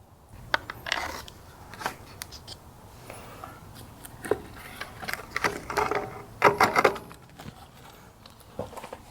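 Trailer wires being stripped of their insulation with a hand tool, giving a series of short, close scraping and clicking bursts with quiet gaps between them.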